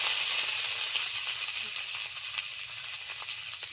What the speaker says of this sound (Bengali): তেলের ওপরে আলু দেওয়ার পর আমি তিন চার মিনিট মতো নেড়ে নিয়ে এসেছি কাঁচা লঙ্কা ছেড়ে দিয়ে দিলাম